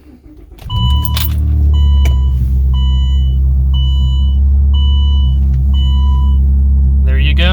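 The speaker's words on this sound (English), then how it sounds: "Now I'm going to remove the key completely, and we'll go ahead and start the car." A SAAB engine cranks and catches near the start, then settles into a loud, steady idle rumble, with a regular series of electronic chimes sounding over it and a brief rustle at the end.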